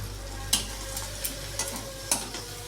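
Bhetki fish bones fry in a cooked-down spice masala, a low sizzle under a steady hum with a handful of sharp, spaced spatula knocks and stirs up close.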